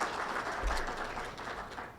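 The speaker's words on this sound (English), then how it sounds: "Let's give him a round of applause." Audience applause at a training event, fairly quiet and steady for a couple of seconds, a soft continuous patter of clapping heard from a distance.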